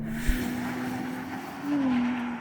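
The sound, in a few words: Porsche Panamera 4S E-Hybrid launch, tires struggling for grip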